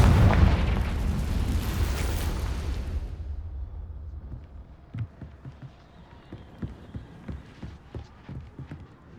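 A Confringo fire-blast spell from the Hogwarts Legacy video game erupts in a loud, close boom that rolls and fades over a few seconds, followed by faint rhythmic tapping.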